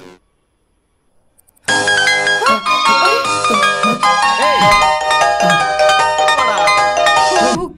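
A loud, bright electronic ringtone melody bursts in after a near-silent start and plays continuously with chiming, sliding tones.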